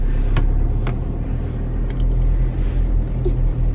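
A car engine rumbles steadily at close range, a continuous low drone with a few faint clicks and knocks over it and no speech.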